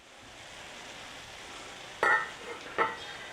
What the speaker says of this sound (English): just keep stirring and breaking apart the pieces like I'm doing here